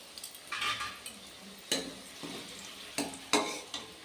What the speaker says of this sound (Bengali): আলুগুলো আমি লাল লাল করে ভেজে নিয়েছি। এবার আলুগুলো আমি তুলে নিচ্ছি।